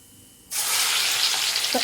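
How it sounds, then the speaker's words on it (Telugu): Crushed garlic for Telangana-style tomato chutney hits hot oil in a pan and erupts into a sudden, steady loud sizzle, with a brief clink of a utensil near the end. "తర్వాత పచ్చ దంచుకున్న ఎల్లిపాయలు వేసుకోవాలి"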